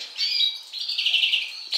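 Caged greenfinches chirp in a steady run of high, bright twittering calls that carry on close by with only short breaks, and no voices are heard.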